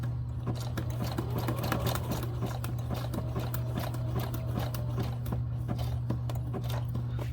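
Sewing machine running steadily while stitching a double seam along a fabric edge, a continuous close mechanical whir with fast regular needle ticks throughout, no talking.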